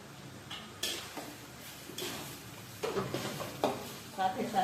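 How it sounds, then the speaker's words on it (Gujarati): A spoon stirs homemade masala into a vegetable sabzi in a pan, giving quiet, irregular scrapes and clinks against metal over a faint sizzle. "મિક્સ કરી દઈશું બધું."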